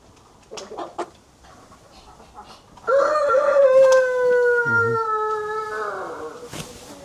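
A rooster at a small animal show in Leingarten gives one loud, drawn-out crow lasting several seconds, preceded by a few short clucks and bird calls in a hall with light background noise.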